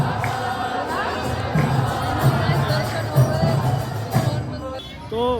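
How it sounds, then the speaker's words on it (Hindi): A large, unexpected crowd fills a temple in Vrindavan with dense babble, shouts and cheers, loud and continuous, with nearby voices rising out of the throng. "अनएक्सपेक्टेड भीड़ है"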